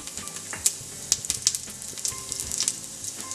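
Cumin seeds sizzling in hot oil in a cooking pot, a steady close crackle and hiss with scattered sharp pops and a few brief stirring clicks.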